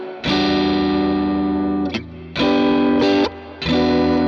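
Electric guitar played through an effects unit with the delay switched off, giving loud, distorted sustained chords in three or four separate strums with short gaps between them, close and without speech.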